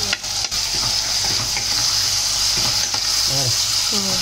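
Tomatoes frying in oil in a pan for white kuruma gravy, a loud continuous sizzle close up with stirring scrapes and a few clinks of the spoon against the pan.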